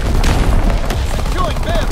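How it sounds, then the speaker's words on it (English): Incoming enemy artillery in a Call of Duty WWII multiplayer match, dense booming blasts and rumbling gunfire filling the scene loudly and continuously, with whistling shells sliding down near the end. "Incoming enemy artillery."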